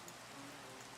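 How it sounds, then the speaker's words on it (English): Steady, soft rainfall in a video game, a continuous faint hiss of drops with no talking. "Oh, it's raining."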